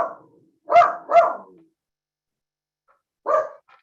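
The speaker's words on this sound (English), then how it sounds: "Excuse the dog." A dog barks three times, loud and close: two quick barks in a row, a pause of silence, then one more single bark.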